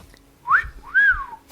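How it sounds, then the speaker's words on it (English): A two-note wolf whistle from the 1987 James Bond film The Living Daylights, a rising slide then a longer arched note, sharp and close with no talk. "You managed to kill the big bad guy with a wolf whistle."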